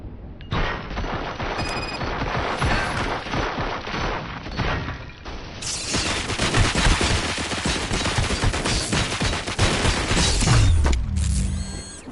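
Gunfire in the RoboCop: Rogue City video game: dense, loud automatic fire and mechanical clatter running almost continuously, growing busier and harsher partway through, with no voices.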